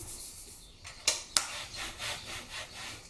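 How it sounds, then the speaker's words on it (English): A bone folder is rubbed over paper stuck down with glue stick during a paper craft project, giving quiet dry scraping strokes with two sharper brief scrapes and softer repeated rubs after them. "I use the bone folder because if there's any clumps of glue stick, it just smooths it out"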